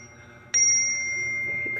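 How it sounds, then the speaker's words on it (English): A bicycle bell rung once, a sharp bright ding with a long ringing tail that holds steady over faint background noise. "I'm gonna ring my bell"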